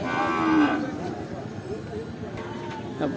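At a Qurbani cattle market in Shahapur, a cow lets out a loud, drawn-out moo nearby, fading after about a second, with crowd chatter continuing in the background.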